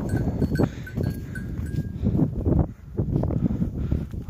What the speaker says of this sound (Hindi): ये जी क्रिकेट ग्राउंड में एक बकरा आ गया है